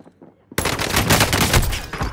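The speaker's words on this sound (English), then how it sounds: "Receiving hostile fire." Hostile gunfire in a video game bursts in suddenly after a brief quiet moment, then rattles as loud rapid automatic shots and a dense fusillade close by.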